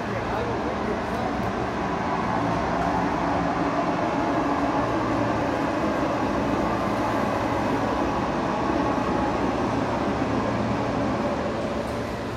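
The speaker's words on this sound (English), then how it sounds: "This is the airport train to take it to Denver" An RTD airport commuter train at Denver Union Station gives off a steady, moderately loud rumble of rail and motor noise that holds evenly throughout, with the busy station around it.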